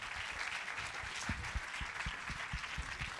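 A studio audience claps steadily as guests arrive on a French talk show. The applause is dense and moderately loud, with a few sharper close claps standing out near the end.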